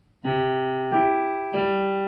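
Three full piano chords ring out one after another at an even pace in 4/4 time, each sustained and resonant, played solo at close range.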